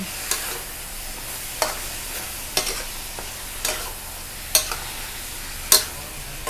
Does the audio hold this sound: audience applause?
no